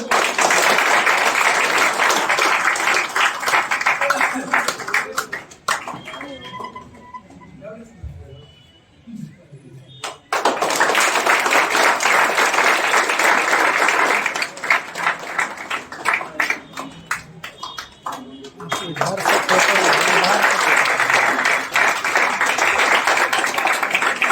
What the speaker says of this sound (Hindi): तो जोरदार ताली बजनी चाहिए।